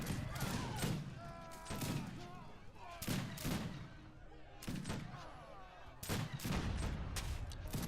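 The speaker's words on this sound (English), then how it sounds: "The demi cannon taking down the town center on the side." Demi cannons firing on a town center in an Age of Empires battle, with repeated booming shots and impact thuds at irregular intervals amid constant combat clatter, while a voice commentates over them.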